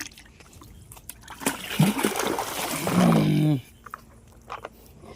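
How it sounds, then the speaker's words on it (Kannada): A buffalo drinks water from a bucket close by, a loud burst of slurping and sloshing in the middle, surrounded by quieter splashes and drips. "ನೋಡ್ರಿ ಒಂದು ಬಕೆಟ್ ನೀರು ಕುಡಿತು"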